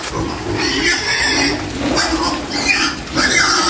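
Pigs in a rural backyard piggery grunt and squeal in overlapping bursts at close range, a steady noisy chorus that swells and dips over a few seconds, with rain falling outside.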